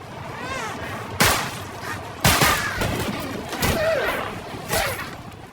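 Several sharp gunshots in the action film Extraction 2 ring out at irregular intervals, each a loud, crackling burst over a low, rumbling background.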